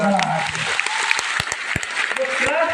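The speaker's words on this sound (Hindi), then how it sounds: "तो बजाइए एक बार तालियों की।" Audience applause during a lecture, brisk clapping with sharp individual claps standing out, while a voice talks over it.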